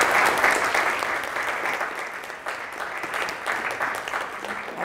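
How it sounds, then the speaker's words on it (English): An audience claps after a talk on health disparities, dense sustained applause from many hands filling the room for several seconds, steady throughout with a slight dip midway. "Let's give him another round of applause."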